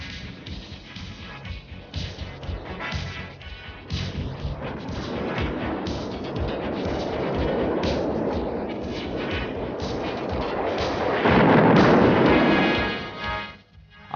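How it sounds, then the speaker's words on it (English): Harrier jump jets fire rockets and strafe with guns, rapid gunfire rattling in loud bursts and building into a heavy roaring blast near the end. "together with rocket firing and strafing with guns"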